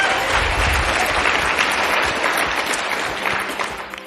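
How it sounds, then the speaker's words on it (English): Loud, dense applause fills a hall at an annual roofing conference, a sustained wash of many hands clapping at once that tapers off slightly near the end. "That's worth clapping for."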